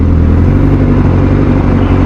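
Heavy traffic near SM Molina drones loud and close, with a steady low engine rumble from passing cars and no voices.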